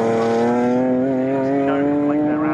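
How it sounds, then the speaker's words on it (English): Race car engines drone loudly at a steady, high-pitched rumble down the straight at Snetterton during a CSCC Slicks Series race, holding a sustained tone as they run past close by. "It's great to have these cars rumbling their way down the straight."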